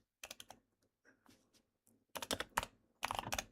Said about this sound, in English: Having a hard time typing.